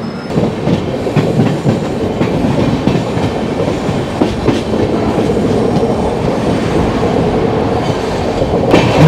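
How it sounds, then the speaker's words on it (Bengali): The Gwalior Kolkata Superfast Express pulls into Durgapur station with a loud, continuous rumble of wheels and carriages, rattling and clattering steadily with a sharper clank at the very end. "এসে পৌঁছালো আজকের এই ট্রেনের শেষ হল্ট দুর্গাপুরে।"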